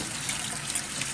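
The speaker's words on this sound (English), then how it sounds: "wash it with a little bit of water under your sink" Tap water runs steadily under a kitchen sink while copper-bottom cookware is rinsed, a continuous close splashing gush with no other sounds.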